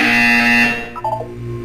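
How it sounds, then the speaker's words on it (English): A loud, harsh electronic buzzer in the Portal 2 video game drones steadily for under a second, then cuts off, leaving a faint low hum and a few soft tonal blips. "You will hear a buzzer. When you hear the buzzer, look up at the ceiling."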